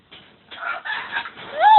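A pet parrot on its perch gives a run of harsh, close squawks and clucking calls that rise in intensity toward the end.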